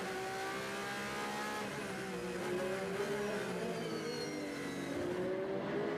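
A Porsche race car at the 24 Hours of Le Mans, its engine droning and pitch sliding steadily upward as it passes at a distance, with loud track ambience around it and no talk.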